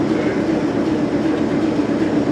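Restored Bulleid steam locomotive 34067 Tangmere rumbles and clatters along the rails at close range, a steady loud mechanical roar with rhythmic wheel noise.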